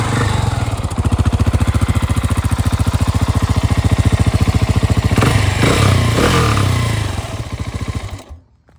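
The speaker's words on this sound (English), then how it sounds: "Let's start it up. Usually we love to hear exhaust. Hate this exhaust." A Husqvarna 701 Supermoto motorcycle engine with stock exhaust idles steadily with a fast, even putter, then revs briefly near the end before cutting off abruptly.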